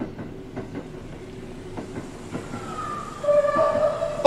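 A ghost train in the horror video game Burger & Frights rattles with rhythmic clicks, then a rising whine and squeal builds toward the end, growing louder and closer.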